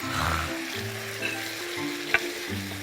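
Squid and potatoes sizzle in a hot pan while two spatulas scrape and stir through them, with a couple of sharp clinks.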